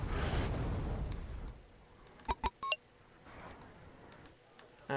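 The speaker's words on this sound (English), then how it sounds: "This artillery, God, this artillery." Artillery fire in the Wargame: AirLand Battle video game: a loud rumbling barrage of booming blasts that dies down, then a few sharp electronic beeps and quieter distant booms.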